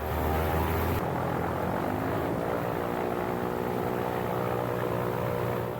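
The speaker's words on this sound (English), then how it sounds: "we make sure that the propeller governor and the engine systems work properly under load." A Pitts Special's propeller engine roars loudly and steadily close by during a run-up, a constant buzzing drone with a deep throbbing hum.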